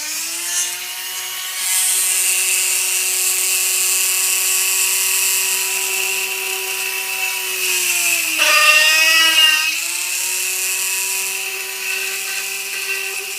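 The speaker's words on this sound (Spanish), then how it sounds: "vamos a utilizar la broca que ya utilizamos antes para los demás tornillos" A power drill fitted with a bit bores screw holes in a homemade wind-powered generator build, its steady motor whine running close and loud, briefly dropping in pitch as it bites under load before spinning back up, with no talking.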